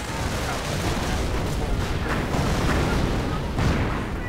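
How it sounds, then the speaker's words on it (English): Artillery shells land in a Company of Heroes battle beside a medic bunker, a continuous dense rumble of distant blasts and booms with a few sharper impacts rising out of the din. "Registered artillery going in somewhere. Right next to the medic bunker."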